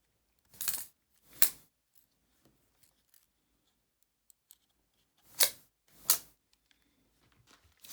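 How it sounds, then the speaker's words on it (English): Memory card clicked out of a Sony camera: a few sharp, close plastic clicks and snaps in two pairs separated by a quiet gap, with faint small handling ticks between. "Take out the memory card from the camera."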